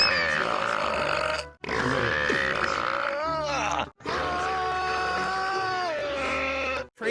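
Long, drawn-out voiced belches from a man, several in a row with rising and falling pitch, loud and close, separated by brief silent gaps.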